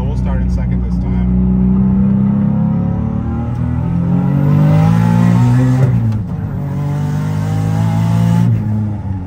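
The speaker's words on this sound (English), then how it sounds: "we'll just do like a full throttle hit. I'm gonna start in second" A turbocharged car being tuned pulls at full throttle in second gear at about 13 pounds of boost, its engine roaring loud and close with a steadily rising pitch, a brief dip, then climbing again.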